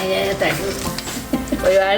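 Cashews sizzling in ghee for dal payasam, a busy crackling fry close by, with voices talking over it.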